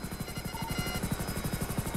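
Rapid rhythmic chopping of helicopter rotor blades in a video game, steady and close, with a faint high whine running underneath.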